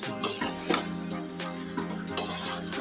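Cauliflower stirred with ghee in a pan, a metal spoon scraping and clinking in uneven repeated strokes over a soft background sizzle, close up with no voices.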